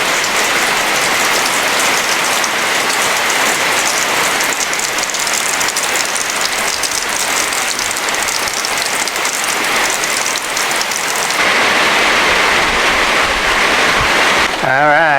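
Heavy rain pours down steadily outside, a loud, dense, continuous hiss and patter that fills the scene without a break.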